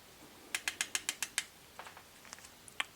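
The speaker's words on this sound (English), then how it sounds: "Torque wrench time, 50 foot-pounds." A torque wrench ratchets on an engine bolt in a BMW E90 M3 S65 V8, a fast run of seven sharp clicks followed by several softer, spaced clicks, close and otherwise quiet.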